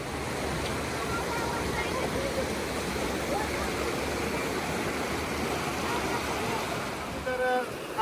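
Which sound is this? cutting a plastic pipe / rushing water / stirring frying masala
rushing water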